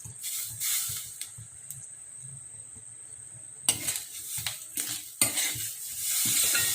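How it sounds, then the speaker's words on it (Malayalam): Curry leaves dropped into hot coconut oil with roasting grated coconut, a bright sizzle and spatter at close range, broken by repeated scraping strokes of a spatula against the pan and a sharp burst of frying midway. "വേപ്പില ഇട്ട് കൊടുക്കാം."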